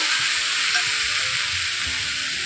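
Mixed vegetables fry in a pan while being stirred, a constant close sizzle broken by soft scraping and knocking strokes of the spoon, with no voices.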